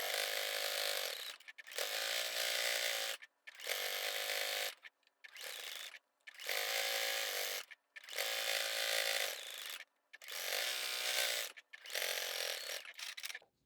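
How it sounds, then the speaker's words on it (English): A sewing machine running in steady bursts of a few seconds each, separated by short pauses, as it top stitches around a flannel bowl cozy. The whir is close and loud, with no talk. "we're going to do a top stitch all the way around the bowl"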